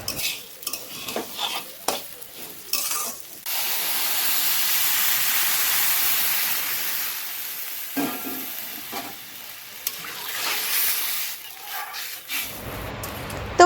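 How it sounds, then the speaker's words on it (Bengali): Khichuri frying in a pan with salt and cumin powder crackles with a soft sizzle, broken by sharp spoon scrapes and clinks against the pan, close by and without speech. "জিরে গুঁড়ো দিয়ে দিলাম দিয়ে ভালো করে ভেজে নিচ্ছি"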